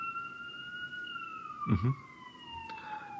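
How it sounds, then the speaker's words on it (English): Police siren wailing steadily in a New York street background, a long, sweeping tone heard throughout, moderately loud, with a brief thump and a short spoken murmur partway through. "sometimes that comes through the background of police sirens and honking horns and all that kind of stuff"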